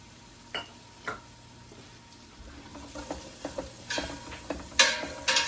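Onion sautéing in a pan and stirred with a whisk, with soft scraping taps and a faint sizzle that grows busier toward the end, close and quiet, with no talking.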